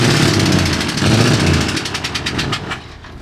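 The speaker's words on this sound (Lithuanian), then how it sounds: "Atrodo, lyg variklis būtų sugedęs, ar kažkas panašaus." A wrecked Optimus Prime–style semi truck's engine runs rough, a loud uneven chugging with rapid rattling pulses that grows more stuttering and irregular before fading slightly near the end, heard alone without talk.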